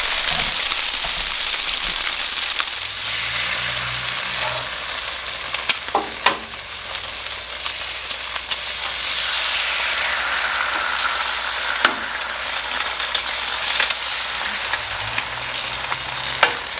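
Eggs fry in bacon grease on a Blackstone griddle, giving a loud, steady close-up sizzle and crackle throughout, with scattered pops and a few scraping clicks.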